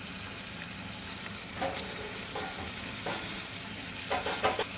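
Chicken and eggs frying in oil under a covered pan make a soft, even sizzle, with faint stirring or lid clatter rising briefly near the end.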